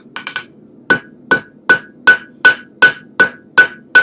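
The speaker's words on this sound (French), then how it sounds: "Donc je martèle en partant du centre et après je viens tourner autour" Hammer blows on hot metal while forge-welding a sandwich-pattern damascus steel billet: three quick light taps, then about nine heavy, evenly spaced ringing strikes, close and loud, with no talk.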